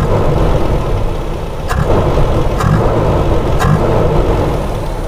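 A Toyota Kijang Super carbureted engine running loud and close, with a steady rough mid-pitched roar and a few quick throttle blips breaking through the idle.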